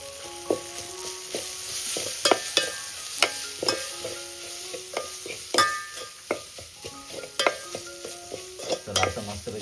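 Masala with kokum being stirred and sautéed in a pan on a wood-fired village stove in Konkan, with steady frying sizzle and repeated sharp scrapes and taps of the spoon against the pan, close and clear with no talk.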